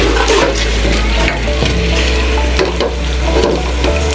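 Precooked beef frying hard with spices and five-spice seeds for a dry bhuna, a loud dense close sizzle with constant crackle and occasional stirring knocks, without speech.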